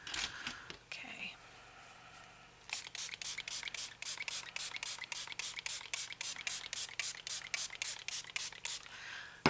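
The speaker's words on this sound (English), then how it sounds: "Okay, so let's get some spray." Aerosol spray can used on a craft project, a rapid string of short hissing bursts repeated in a steady rhythm, close and fairly quiet after an earlier soft hiss.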